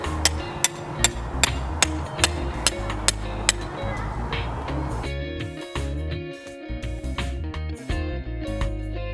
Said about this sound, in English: use the sledgehammer to hammer in the rebar